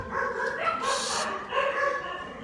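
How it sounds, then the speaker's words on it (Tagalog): Several dogs bark and yip together, a noisy, overlapping chorus that runs continuously and sounds fairly close. "Mga maingay ang aso."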